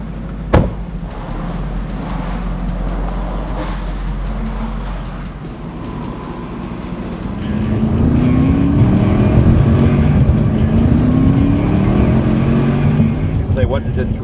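A Mercedes-Benz SLR McLaren's engine starts with a sharp burst, settles into a deep idle, then swells into a louder rising drone as the car pulls away, heard from close up, with talk faintly present.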